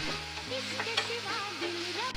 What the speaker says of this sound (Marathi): कढईत तेल गरम करा. त्यात बारीक चिरलेला कांदा, आलं लसूण पेस्ट टाकून चांगलं परतून घ्या.